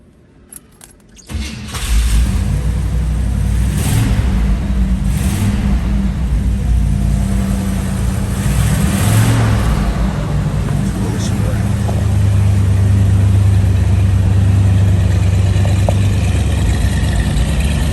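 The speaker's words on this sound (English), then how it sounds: "Now, let's start this up. Remember, this is a 455 4-barrel engine." A 1969 Buick Riviera's 455 four-barrel engine starts after a brief quiet moment, then settles into a steady, loud idle with a deep rumble through dual exhaust that continues throughout.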